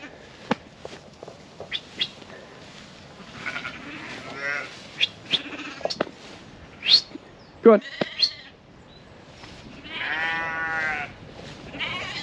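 Sheep bleat on a farm, with a few scattered calls and then a louder, drawn-out bleat near the end, mixed with small clicks and rustles and a man's brief spoken words.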